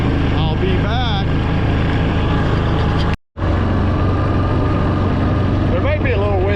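Steady engine rumble and rushing wind noise from riding in an off-road buggy, continuous and loud with a brief cutout midway, with someone talking over it.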